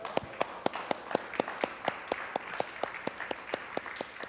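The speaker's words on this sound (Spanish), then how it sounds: "vamos a darle un aplauso al Señor por eso" A church congregation claps together in a steady, rhythmic beat during a Spanish-language sermon, the unison claps evenly spaced and repeating at a moderate tempo over a soft background.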